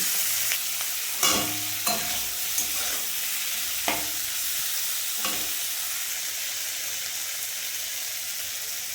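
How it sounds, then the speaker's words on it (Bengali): Shrimp frying in oil in a pan, a dense continuous hiss and crackle close by with several sharp spatula knocks and stirs early on, no voices. "এখন চিংড়ি মাছগুলো ভেজে নিচ্ছি"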